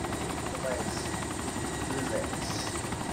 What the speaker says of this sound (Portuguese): o helicóptero tá ligando